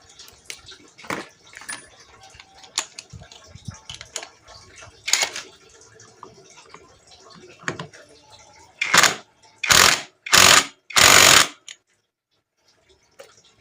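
An impact wrench tightens clutch bolts on a slipping motorcycle clutch, firing four loud, harsh bursts in quick succession near the end after a stretch of softer metallic tool clatter and handling noise.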